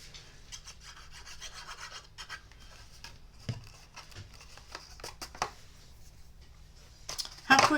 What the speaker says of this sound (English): Then we're going to place it right over the box. Fold the flap in.